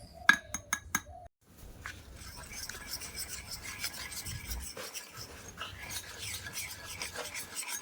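Coffee cream is whipped by hand for cold coffee. A few light clinks open the clip, then a soft, steady, rasping whisk churns on continuously at close range.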